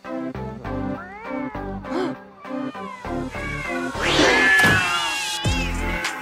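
Several cartoon cats in a cat café from the animated series Family Guy meow repeatedly and loudly in overlapping, rising and falling cries, building to a harsh caterwauling yowl near the end.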